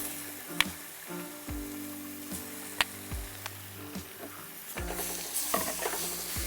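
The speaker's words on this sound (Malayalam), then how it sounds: "ഇനി അതിലേക്ക് നമ്മൾ ചെമ്മീൻ ആഡ് ചെയ്യാണ്" Washed prawns hit hot oil in a frying pan, setting off a steady sizzle with stirring scrapes and a few sharp clinks of utensil on pan, close and fairly loud, with no talking.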